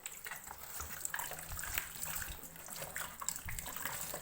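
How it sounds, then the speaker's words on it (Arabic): Hot water runs steadily from a kitchen tap onto a greasy range hood filter, a continuous splashing hiss with small spatters as it hits the metal mesh, close and alone with no talk. "حابة تحطي الشفاط برضو عليه مية سخنة"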